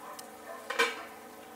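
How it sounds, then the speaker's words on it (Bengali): A metal lid lifts off a cooking pot of Bengali-style spiny eel (baim fish) curry with potatoes simmering on a half-lowered gas flame, giving a single brief clink and scrape over a steady low kitchen hum. "চাপাটা তুলে নিচ্ছি"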